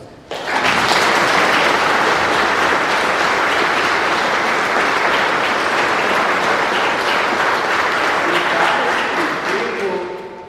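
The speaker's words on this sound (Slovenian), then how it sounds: "Zaslužen aplavz" Church congregation applauding at a golden jubilee Mass in Rovte, a loud, dense and sustained burst of clapping that fills the space for about ten seconds before easing slightly at the end.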